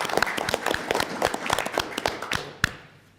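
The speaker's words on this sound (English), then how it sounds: "so let's clap" A small audience at a Google Summer of Code panel gives brief, scattered applause, with uneven individual claps that thin out and stop after about three seconds.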